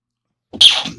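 A single sharp sneeze from a man bursts out of silence, close and loud, then trails off quickly.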